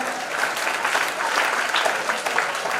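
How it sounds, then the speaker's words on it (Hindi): Loud, steady applause from an audience welcoming someone at a youth-wing volunteers' medal ceremony, dense clapping filling the whole stretch without a break. "तो जोरदार ताली से स्वागत करेंगे"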